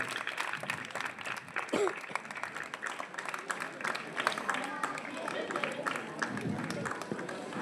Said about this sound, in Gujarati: આપણે તાળીઓના ગડગડાટથી આપણા સાથી વિદ્યાર્થી મિત્રોને પ્રોત્સાહિત કરીએ.